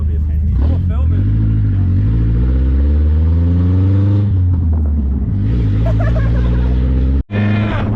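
Close, loud car engine, apparently a Lexus SC300 or GS300, revving hard, its pitch rising and falling through several sweeps, with a sharp momentary cutout before climbing again; voices talk over it.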